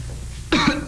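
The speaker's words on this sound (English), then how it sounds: "turn your head and cough" A single short, sharp cough from a man during an army physical, loud and close after a moment of quiet room tone.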